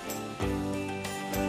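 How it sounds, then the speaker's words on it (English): Music playing from a vinyl LP record, with a steady full band sound and rich sustained tones running throughout at moderate loudness, with no voices. "That's the sound of a record, a vinyl, an LP."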